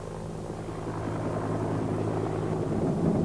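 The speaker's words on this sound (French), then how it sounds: "L'hélicoptère l'emporte et survole la ville pendant quelques minutes très intenses." Government helicopter flying over Medellín, a steady rotor drone that swells gradually louder and nearer across the few seconds, with no talk.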